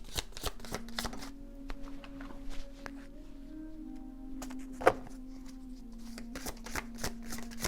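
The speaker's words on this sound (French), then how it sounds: "on va regarder un tirage de cartes pour les Gémeaux" Tarot cards are shuffled for a card reading, a run of soft riffling flicks and slaps close up, with a sharper snap midway and a low steady hum underneath.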